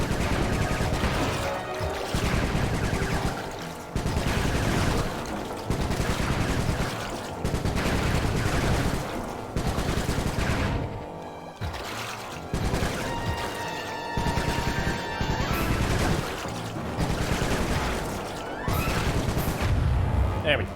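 Repeated bursts of gunfire in the video game Sly 3, loud rapid volleys with booms in a rough rhythm of roughly two-second pulses, mixed with game music and occasional talk.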